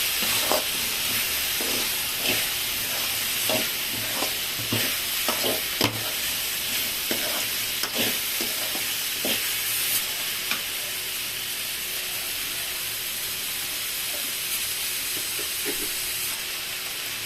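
Carrot and bean poriyal frying in a pan and being stirred, a steady sizzle and hiss with repeated scraping strokes of the spoon through the first half, then settling into continuous frying.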